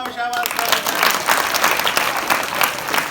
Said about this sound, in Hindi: ताली बजाओ, शाबाश।